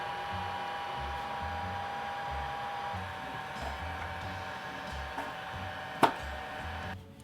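A heat gun on medium blowing steadily while heating and bending the fingers of a prop zombie hand, a continuous airy whir with a faint tone, low knocks, and a sharp tap near the end.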